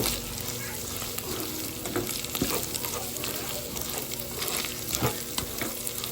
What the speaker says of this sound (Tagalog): nilagay ko na yung sibuyas. Maglagay tayo ng asin. Tapos, ayan, haluin na natin.